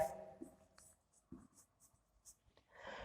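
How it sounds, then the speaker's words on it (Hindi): A pen writes by hand while a maths lesson works through second-order partial derivatives, making faint, scattered scratches and taps with quiet pauses between strokes. "तो यहाँ लिखेंगे"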